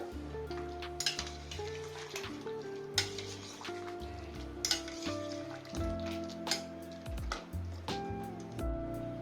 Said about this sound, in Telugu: చికెన్ వేసేసానండి ఒకసారి బాగా తిప్పేసేసి ఎయిటీ పర్సెంట్ వరకు ఉడికించుకుందామండి వాటర్లో